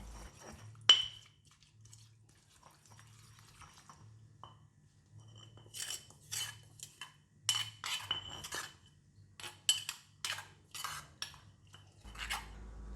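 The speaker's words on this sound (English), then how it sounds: "Use the pestle or the spoon to mix it directly in the mortar." A spoon scrapes and clinks against a mortar while mixing Thai peanut sauce, quiet at first with one sharp knock, then a busy run of close, irregular clinks and scrapes.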